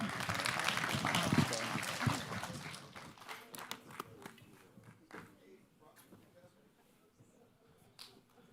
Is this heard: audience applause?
yes